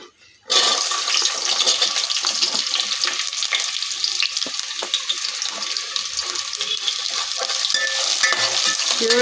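Onions fry in plenty of oil for a chicken dum biryani, starting abruptly as a loud, steady, hissing sizzle with crackling pops that carries on unbroken, close by and without speech.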